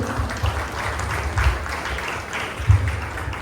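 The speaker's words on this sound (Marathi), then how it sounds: "त्यामुळे तुम्हा सगळ्यांसाठी जोरदार टाळ्या झाल्या पाहिजे." An audience breaks into applause, a dense, steady wash of many hands clapping at once with a few louder swells, continuing for several seconds.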